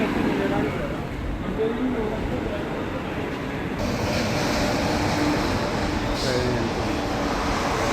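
Continuous low rumble of a passing metro train at Sungai Buloh fills the clip, steady and fairly loud, with a brief higher hiss partway through.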